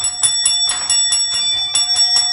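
A bell rung live on a radio morning show, bright metallic strikes repeating in a quick irregular rhythm, ringing loud and close with no talk over it.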